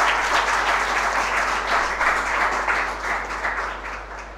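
Sustained applause from an audience welcoming graduates at a certificate ceremony, a dense even wash of many hands clapping that holds steady and slightly fades toward the end.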